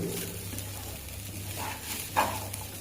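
Flattened rice upma fries and gets stirred in a pan, with a low continuous sizzle and soft scraping close by, then one brief louder scrape near the end, without voices.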